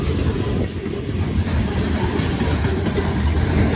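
A freight grain train of covered hoppers rolls steadily past close by, a continuous loud low rumble with faint clattering of wheels on rail throughout.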